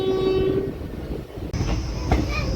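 An Intercity Express train pulls into Hadgaon Road railway station, its horn sounding loud over clattering wheels and a heavy rumble, then the rolling noise carrying on close by with metallic squeals.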